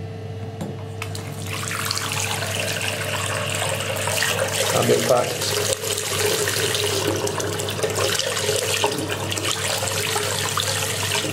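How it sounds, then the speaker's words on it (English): A hotel bathroom sink tap in Edinburgh runs water in a steady, loud, continuous rush for several seconds, with someone talking briefly over it. "Yesterday I couldn't get any hot water in the sink."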